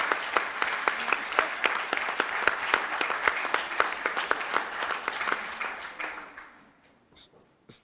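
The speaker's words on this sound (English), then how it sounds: "I just wonder if we could get just a short round of applause for" Audience applause for the commissioners at the launch of the Sheffield Race Equality Commission final report: steady, dense clapping from a room of people, fading out near the end with a few scattered final claps.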